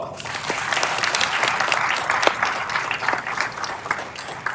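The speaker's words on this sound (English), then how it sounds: "Let's just stop there and give Art Rooney a round of applause." An audience claps steadily in a round of applause honoring Art Rooney at a Pittsburgh Steelers press conference about hosting the NFL Draft; dense, fairly loud clapping sustained throughout, with faint voices mixed in.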